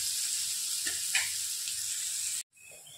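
Onions sizzle and fry steadily in a pan for mutton gravy, a continuous broadband hiss with a few brief stirring scrapes, then cut off abruptly near the end, leaving a quieter tail.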